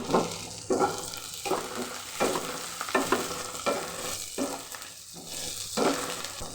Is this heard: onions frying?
yes